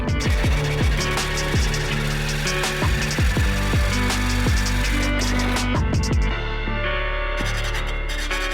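Metal pipe being cut with a power tool, giving a steady loud grinding drone with repeated rhythmic bites and chirps from the blade before it winds down near the end.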